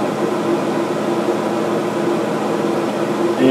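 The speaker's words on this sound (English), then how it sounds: "Now we're really starting to boil here." Wort coming to a rolling boil in a Grainfather all-in-one brewing system, heard as a steady, dense roar and bubbling hiss, close and unbroken throughout.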